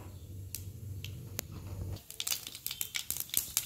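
Mustard seeds hit hot oil for a kadala curry and begin spluttering halfway through, a dense run of sharp, close crackling pops that follow a quieter low hum.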